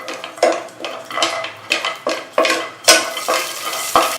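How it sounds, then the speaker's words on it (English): Cashew nuts roast in melted ghee in a pan over a slow flame, with a low sizzle under repeated close scraping and clinking strokes of a utensil stirring them. "add some cashew nut into it and roast it in a slow flame till it turns nice golden brown in color"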